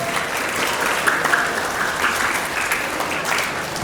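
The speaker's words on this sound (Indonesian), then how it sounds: "Beri tepuk tangan dulu." An audience at an Indonesian talk show gives a steady round of applause for a police officer from Polres Muaro Jambi, dense clapping from many hands, loud and continuous.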